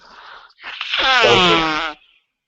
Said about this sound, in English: Sorry, I'm blowing my nose again.